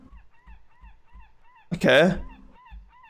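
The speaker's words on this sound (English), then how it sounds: "Seems to be a lot of seagulls" Repeated honking, squawking bird calls in a game by the sea, short rhythmic cries spaced evenly over low thumps, interrupted by one louder, longer squawk in the middle, with a brief spoken word.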